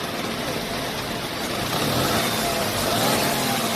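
Tata Tiago petrol hatchback with a noisy air filter, engine revved and released in a workshop, a steady broadband roar that swells louder in the second half with a rushing intake hiss over it, close and continuous.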